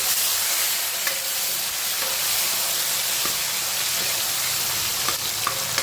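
Tomatoes sizzle in hot oil seasoned with bay leaf, cumin, a red chili and asafoetida, a loud, steady frying hiss with faint stirring clicks and no talking.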